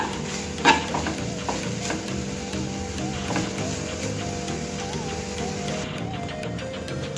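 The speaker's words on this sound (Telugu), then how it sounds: "మీడియం ఫ్లేమ్ మీద పెట్టి ఇది పొడిగా అయ్యే వరకు మనం వేయించుకోవాలి దీన్ని" Grated coconut dry-roasting in a pan over a medium flame, with a soft steady sizzle and light scraping as it is stirred, fairly quiet and continuous.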